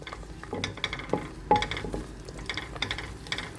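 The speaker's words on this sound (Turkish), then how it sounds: "şimdi ben sarımsakları atacağım buraya" Garlic goes into a sizzling pan for a shrimp stir-fry, with a soft hiss under repeated metallic scrapes and clinks from stirring, close and fairly quiet, in uneven bursts.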